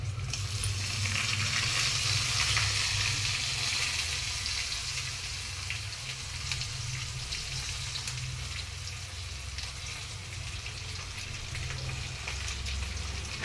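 Dried red chillies fry in hot oil in a pan, giving a steady, dense, close sizzle that crackles evenly throughout without pauses.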